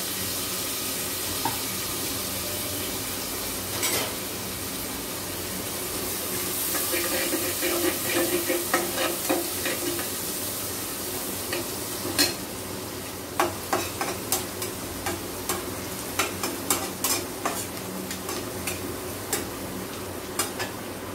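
Chopped onion frying in a pan, a continuous close sizzle that grows busier midway, with clusters of sharp utensil scrapes and taps from stirring toward the end, no voices.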